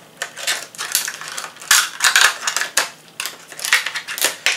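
Scissors snip through plastic packaging while a Nintendo Switch accessory is being unboxed, giving a quick run of sharp, crisp cuts and crinkles, close and fairly loud, with no talk.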